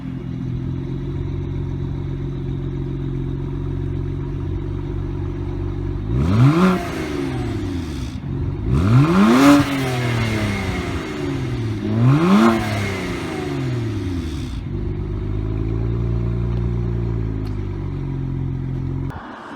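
A BMW E90 335xi engine drones at a steady idle-like hum, then revs hard in three rising pulls as the car accelerates, each climbing in pitch before easing off, close and loud from inside the car.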